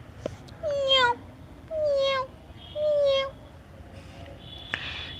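A cat meows three times in an audio story, each meow a clear, drawn-out call with short pauses between them. The calls come close and alone, with light taps before and after.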